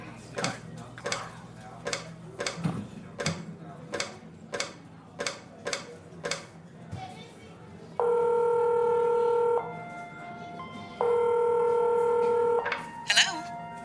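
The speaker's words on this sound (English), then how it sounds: "God, how do you work this payphone again? Just coin here." A payphone's touch-tone keypad is dialed: two long steady beeps sound after a run of ticking clicks, close and clear, with a man muttering around them.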